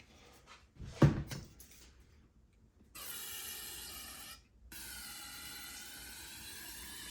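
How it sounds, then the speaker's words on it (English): Carburetor cleaner sprays in two sustained hissing bursts into the fuel line of a Champion 2000W inverter generator, preceded by a few faint clicks and a brief handling knock. "I'm gonna spray some carburetor cleaner in here"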